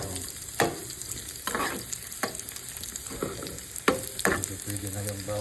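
Garlic and canned bamboo shoots sizzle in a pan while being stirred, a steady frying crackle broken by repeated scraping strokes of a spatula at irregular intervals, close and clear with no talking.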